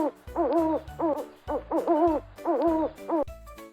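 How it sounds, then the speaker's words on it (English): An owl hoots in a repeated series of clear, close calls, several wavering hoots in quick succession with short gaps between them, set against a faint low background hum. "What sound does an owl make?"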